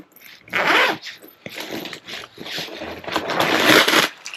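Crinkly paper stuffing pulled out of a new autumn handbag, a long rustling and crumpling in bursts of varying loudness, close by, with no speech over it.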